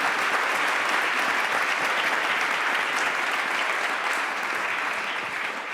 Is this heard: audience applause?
yes